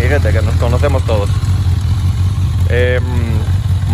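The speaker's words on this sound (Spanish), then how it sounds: "Moto en orden de marcha, a ralentí suena bastante bien." Customized Honda CB 1000 R Brat Style motorcycle with a DB Killer fitted, idling at a steady low rumble throughout while someone talks over it.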